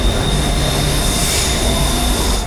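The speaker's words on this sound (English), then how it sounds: "And there goes the train." A metro train pulls away from Phaya Thai Station in Bangkok, a steady broadband rumble of railcars and wheels with a thin high squeal running through, loud and close with no talking.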